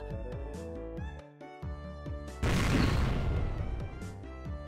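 In the Higurashi no Naku Koro ni visual novel, a burst of white lime explodes out of a window: a sudden broad crashing blast breaks through the background music, then fades back under the melody.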